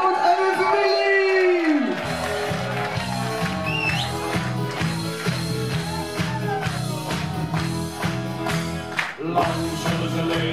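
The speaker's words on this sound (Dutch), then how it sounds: "Dames en heren, mag ik een groot applaus voor meneer en mevrouw de Groot en mijn familie!" Guests at a 25th wedding anniversary party cheer, whoop and shout over loud, steady dance music throughout.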